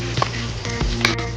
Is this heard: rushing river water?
no